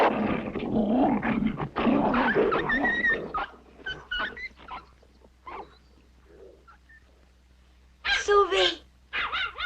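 A big dog growls and barks in loud bursts, mixed with excited speech and noisy activity, then quieter sounds before a sharp louder flurry near the end, in a 1980 French TV drama.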